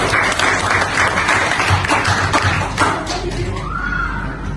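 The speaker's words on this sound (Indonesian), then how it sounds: "aplaus buat kita semua" An audience claps and cheers at an Indonesian presentation, a loud, dense burst of applause that fades toward the end.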